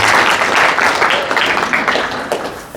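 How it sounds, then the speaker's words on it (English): A large audience at a 2025 human rights gathering bursts into loud, sustained applause, a dense wash of clapping that slowly tapers near the end. "So give yourselves a big gay round of applause."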